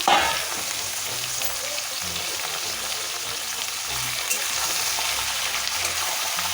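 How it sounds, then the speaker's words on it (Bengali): Chicken pieces fry in hot oil with onions, producing a loud, continuous sizzle with occasional stirring scrapes and no one talking. "এরকম মাংসটা একটু তেলে পেঁয়াজেতে ভেজে দিলে করে খুব টেস্ট হয়"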